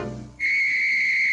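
A shrill, steady cartoon whistle blast from a 1949 Tex Avery animation sounds after a brief low rumble, holding one piercing high tone loudly to the end.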